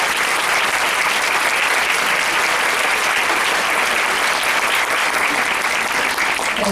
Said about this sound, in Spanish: la recibimos con fuerte aplauso